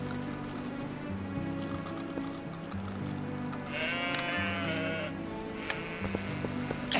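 Goats bleat in the video game Twilight Princess, several wavering cries rising over a steady droning game soundtrack, one long bleat clearly in front.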